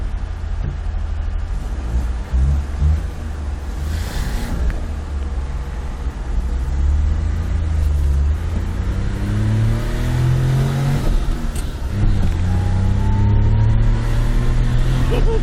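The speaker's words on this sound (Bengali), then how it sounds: "এই যে ডাইহাটসু হাইজেট স্টার্ট দিলাম" A Daihatsu Hijet engine runs close by, its tone climbing and falling as it revs and pulls away through several steady surges, with no talk over it.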